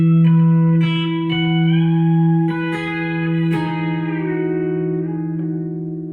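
B-bender electric guitar picks a lick in B, bending a note up with the bender and easing it back down, notes ringing with reverb and echo, close and unaccompanied by talk.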